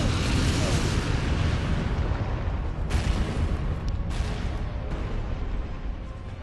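A video-game explosion from Resident Evil Code: Veronica X lands as a dense, loud, rumbling blast that fills the low end, then decays slowly as a roaring wash with a few brief cutouts.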